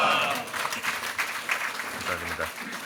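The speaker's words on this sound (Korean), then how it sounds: "목사님 나오실 때 할렐루야로 하나님께 영광 돌리며 박수로 맞이하시겠습니다" A church congregation at a morning prayer meeting applauds to welcome a pastor, a dense, steady round of clapping that fades out over a few seconds, with faint voices mixed in.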